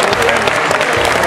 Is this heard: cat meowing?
no